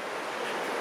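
A rushing mountain waterfall in the Caucasus, heard as a loud, unbroken broadband roar of falling water, close and steady.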